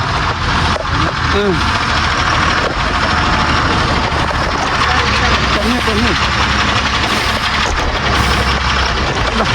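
Engines of vehicles and motorcycles idle in a highway traffic jam, a loud, continuous rumbling drone with steady vibration throughout, and voices talking over it.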